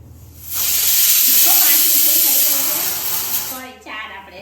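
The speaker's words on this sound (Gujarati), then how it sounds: "4 વિસલ થઈ ગઈ છે" A loud, sustained steam hiss from a pressure cooker whistle blasts for about three seconds, then cuts off and briefly sputters again.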